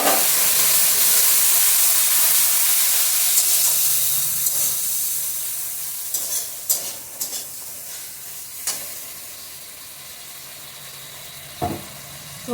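Spice paste with green chilli, garlic and fried onion sizzles in a pan after a splash of water, a steady close hiss that slowly fades, with a few clinks and scrapes of stirring and no talk.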